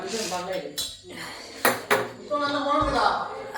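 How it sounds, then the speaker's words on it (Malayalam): A metal pot is set onto a home kitchen stove with a few clanks and clinks of cookware, close by, while a person talks over the clatter. "ഇതെടുത്ത് അടുപ്പത്ത് വെക്കാം."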